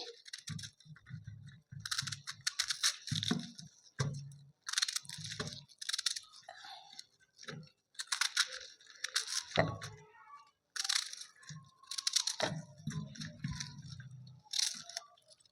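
Cabbage being finely chopped with a knife on a board, heard as bursts of quick, crisp close-up cuts separated by short pauses, with no talking.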